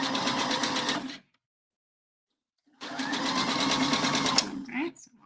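A sewing machine stitches a row along the top of a bra in two bursts, the first about a second long, then a pause of silence, then a longer run, close and steady with a rapid needle rhythm.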